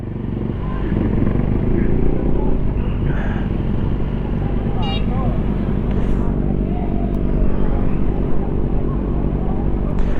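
A Honda PCX160 scooter's engine drones steadily and close while riding on a mountain trail in Infanta, Quezon. The low rumble is continuous and loud throughout, with faint background voices.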